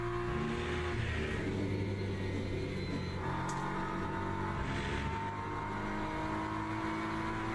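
Sustained GT3 race car engine revving in the Le Mans Ultimate racing game, a steady loud drone holding through the whole stretch with slight shifts in pitch and no talk.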